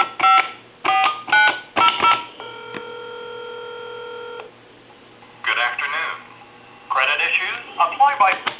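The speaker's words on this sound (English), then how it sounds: "I'm going to dial my number, which has a 3 in it, and it should be busy." Touch-tone dialing on a Coby CT-P750 speakerphone: a quick run of close, clear DTMF key beeps, then a steady tone for a couple of seconds and more beeps, with talking in between.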